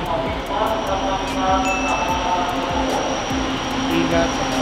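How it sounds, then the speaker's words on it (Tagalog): An LRT light-rail train pulls into a station in Quiapo, a loud, sustained rumble and whine close by with rhythmic wheel clacks, while people talk over the noise. "Ayan, parating na yung train."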